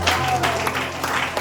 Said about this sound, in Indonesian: Yang setuju boleh tepuk tangan sekali lagi.